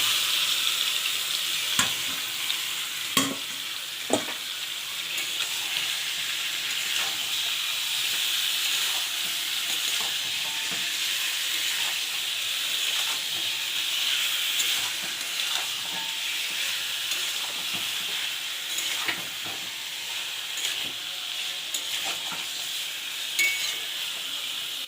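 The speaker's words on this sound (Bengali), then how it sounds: "এরপরে আমি দিয়ে দেবো চিকেনগুলো।" Chicken pieces frying in a spiced pan give a steady, close sizzle with occasional stirring clicks and scrapes, with no talking.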